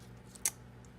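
A single quick snip of scissors cutting paper for a card banner, short and crisp, close by in a quiet room with a low steady hum underneath.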